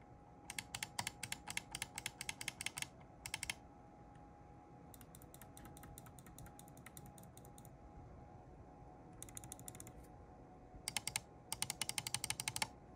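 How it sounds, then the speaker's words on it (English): Mouse button clicks from a Glorious Model O and a Glorious Model O2 Pro wireless gaming mouse, tested one after the other: rapid bursts of crisp, close clicks in several short clusters with pauses between, over a faint steady background hum. "I'll do a click test between the two mice right now."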